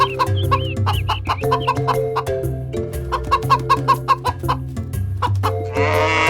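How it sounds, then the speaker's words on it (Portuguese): A chicken clucks in a loud, quick series of choppy calls, repeating steadily over a sustained tonal background. "Galinha, chicken."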